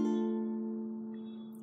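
A minor jazz chord pattern on a four-string instrument, from a chord-melody lesson on a standard. A single sustained chord rings out clearly and decays slowly, with no voice over it.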